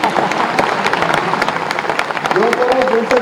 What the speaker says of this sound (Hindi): तालियां बजे तो ढंग से बजे,